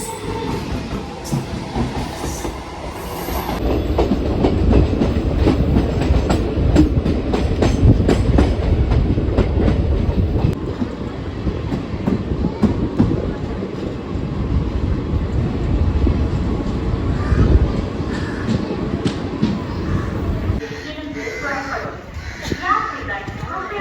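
Train passing alongside the stopped Chendur Express on the Tiruchendur to Chennai line, a loud rumbling roll with rhythmic wheel clatter that fades near the end, with someone talking over it.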